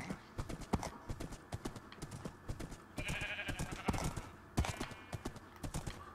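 Horse hooves clip-clop steadily in the Minecraft video game, a rapid, even run of sharp hoof knocks, fairly quiet, with a brief whinny-like sound partway through.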